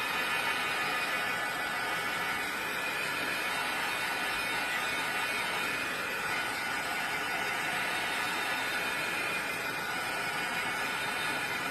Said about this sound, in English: So I'm going to bring in my heat tool